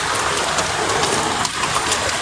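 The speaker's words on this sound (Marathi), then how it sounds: "आजच पाऊस चालू झाला" Heavy monsoon rain falls steadily during a traditional Ganesh arrival procession, a dense, continuous hiss of drops striking surfaces, loud and close.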